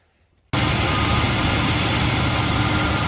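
A 1967 Plymouth Fury engine idles freshly tuned after a brief moment of silence, running loud, close and steady with a low, even rumble and no talking.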